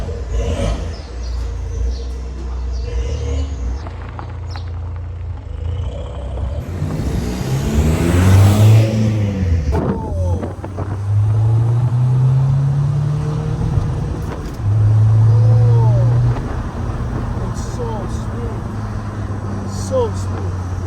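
An Audi A4 B8 fitted with a custom short shifter drives along, its engine droning and rising through revs with gear changes, loud and close from inside the cabin, while a person talks over it.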